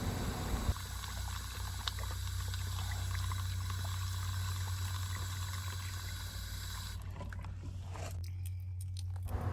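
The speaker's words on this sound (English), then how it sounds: "As the reservoir fills underneath the soil, the water spreads throughout the perforated drain pipe" Water pours into the PVC fill pipe of a self-watering reservoir, a faint, steady trickling and splashing that continues throughout with a low background hum and no voices.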